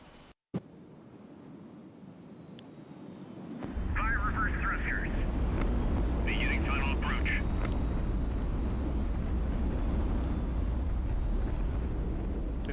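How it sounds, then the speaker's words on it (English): Reverse thrusters on a ship in the video game HighFleet fire with a sudden deep roar a few seconds in, then hold as a loud, steady rumble to the end while a voice talks over it. "Fire reverse thrusters."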